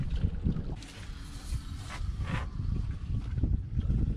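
A fishing boat motor idles in reverse on winter water, a steady low rumbling drone with wind buffeting and faint splashy hiss over it.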